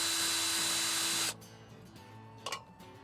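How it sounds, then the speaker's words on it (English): A loud power driver whirs steadily for over a second while backing set screws out of an RV patio awning roller tube, then stops, leaving a quieter hum with a brief metallic clatter. "Now you can remove the set screws that hold the material into the tube."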